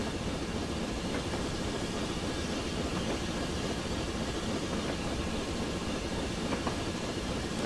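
A 6MT Clan Class steam locomotive train passes on Scotland's Western Lines, producing a steady, loud, continuous rumbling roar that holds even throughout, without speech.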